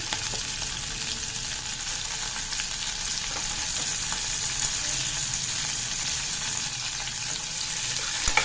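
Tomato pieces fry in a pan for kichidi, giving a steady, even sizzle that carries on without a break and has no talk over it.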